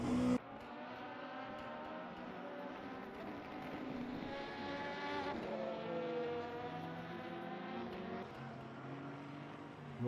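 LMP2 prototype race cars scream around the Sebring circuit in a charity endurance race, a steady high-revving engine drone with rising and falling pitch as cars pass, heard at a moderate distance.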